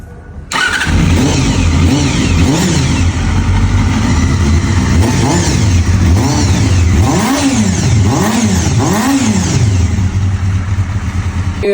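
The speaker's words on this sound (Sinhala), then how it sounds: "අපි බයික් එක ස්ටාර්ට් කරලා බලමු එක්සෝස් නෝට් එක කොහොමද කියලා" A 2012 Honda CBR250RR motorcycle engine starts and idles, then revs up repeatedly in several rising and falling bursts, loud and close, with no talking.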